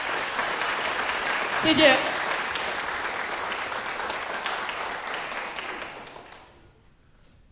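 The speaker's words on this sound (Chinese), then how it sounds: "现在是不是让我们以最热烈的掌声来欢迎我们的孙馆长？" An audience at a Tek award lecture gives sustained, dense applause to welcome a museum director to the stage. The clapping fades out near the end, and a voice briefly says a word of thanks.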